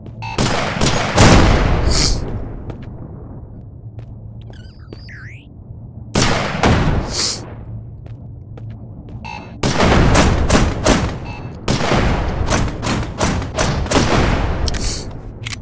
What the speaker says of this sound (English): So let's use the pistol.